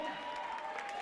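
Short burst of applause from an audience for the FX Dance School after their performance at a francophone community show, a steady wash of clapping with a few cheers, fairly distant, with a tonal hum running underneath.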